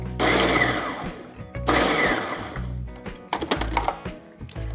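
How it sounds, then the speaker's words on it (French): A food processor or blender briefly pulses vegan burger ingredients with liquid smoke, onion powder and garlic powder, three loud whirring bursts of grinding with short pauses between them. "On va broyer légèrement tous les ingrédients."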